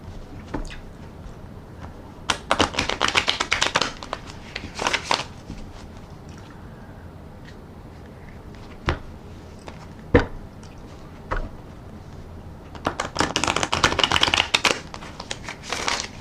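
A tarot deck being riffle shuffled close by, heard as several quick, crisp fluttering bursts of cards separated by quiet pauses and a few single taps.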